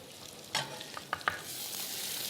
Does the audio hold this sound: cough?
no